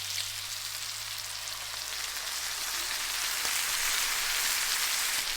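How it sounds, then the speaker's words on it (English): Peppers and onions fry in a pan set on a Weber kettle grill, giving a continuous, even sizzle and crackle close by, with no talking. "Now the peppers and onions and everything's cooking down."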